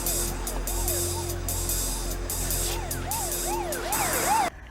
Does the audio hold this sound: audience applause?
no